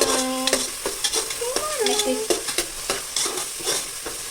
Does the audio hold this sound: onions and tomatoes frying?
yes